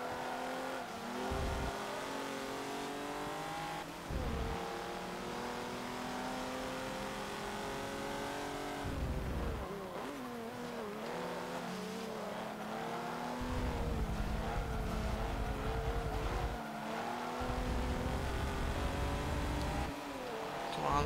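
Race cars in Forza Motorsport 7 scream through gears on an early sport touring circuit, engines rising and falling in pitch as shifts and overtakes pass a Porsche and BMWs, loud and continuous.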